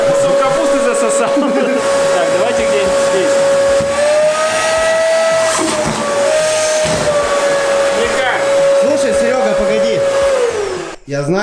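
Powerful household vacuum cleaner running continuously at full strength with a steady high whine that bends slightly in pitch as it tries to suck up cabbage leaves, loud and close, then cutting off at the end.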